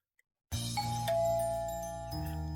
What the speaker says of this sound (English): The sound of the doorbell is elegant and serene.